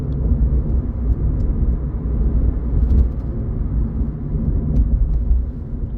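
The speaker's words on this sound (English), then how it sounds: "there is actually significant engine noise." Steady low engine drone from a Scion xD while driving, a continuous rumble heard from inside the cabin with no breaks and no talking.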